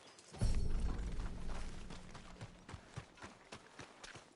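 Horse hooves in Red Dead Redemption 2 clop on a hard surface, a burst of steps followed by slower, spaced clip-clops that fade a little.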